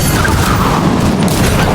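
The Ventus spell is cast in the game Harry Potter: Magic Awakened, producing a loud, continuous gusting roar with booming low rumble throughout the short burst.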